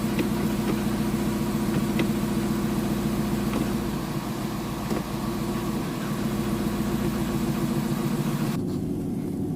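A Dodge Charger's engine drones steadily from inside the car as it is driven to warm the transmission, a constant loud low hum with faint ticking that drops away abruptly near the end, no voices.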